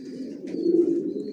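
A low, soft coo of Janssen grizzle racing pigeons in a loft rolls on steadily, with a faint higher chirp in the background.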